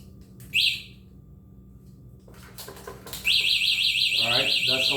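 A Nanrobot D5+ 2.0 electric scooter alarm sounds close by: a short electronic beep, then a loud, rapidly pulsing high-pitched warble that keeps going, with a voice speaking over it briefly.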